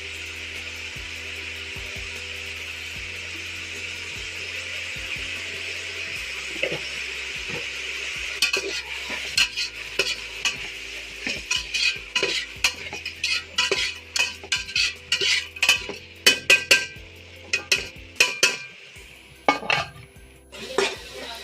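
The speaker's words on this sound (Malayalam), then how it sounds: "അപ്പോൾ അതൊക്കെ ഇട്ട് നന്നായിട്ടൊന്ന് വഴറ്റി ഒന്ന് മിക്സാക്കുക." Chicken biryani masala being sautéed and stirred in a pressure cooker: a low sizzle at first, then a run of sharp metal scrapes and clinks from the spoon against the pot, growing louder and more frequent toward the end.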